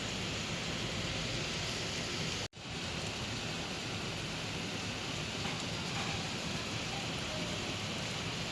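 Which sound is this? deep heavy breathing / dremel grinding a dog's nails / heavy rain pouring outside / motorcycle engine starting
heavy rain pouring outside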